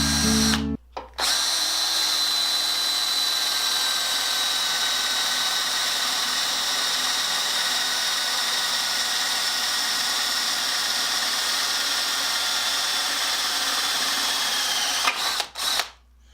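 A power drill bores a hole with a bit sharpened on a Darex Drill Doctor, a loud steady motor whine held for about fourteen seconds between brief start and stop.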